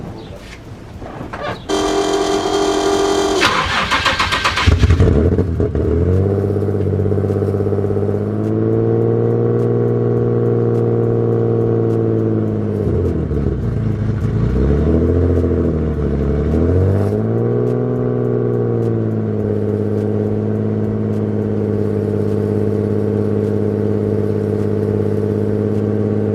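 A turbocharged Nissan 350Z with an unknown fault cranks after sitting a week, catches with a loud start, then settles into a steady droning idle with a few dips and rises in revs, close and alone.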